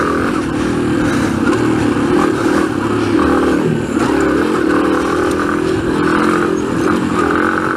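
An air-cooled motorcycle engine revs hard and continuously through an enduro hill climb, loud and close with rough clattering and scraping from the terrain throughout.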